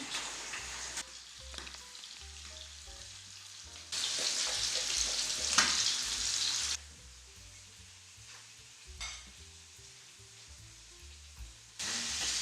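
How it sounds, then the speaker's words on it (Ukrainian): Liver sizzles steadily in a hot pan over high heat, the frying swelling louder at times with occasional stirring or shifting in the pan. "І викладаю ось так печінку. Печінку обсмажую на великому вогні."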